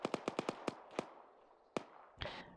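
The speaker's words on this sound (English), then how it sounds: "We've got mass gunfire fucking far southeast, command." A rapid series of sharp pops, then a few spaced single shots, like distant gunfire crackling in bursts, fairly faint with a rumbling background, in a military simulation video game.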